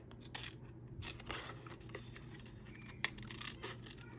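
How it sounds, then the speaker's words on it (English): Scissors snip through paper for a fall-themed snap frame craft kit, giving a run of close, crisp cuts and rustles with a sharper snip near the end. "we're gonna just glide that through our scissors with our left hand"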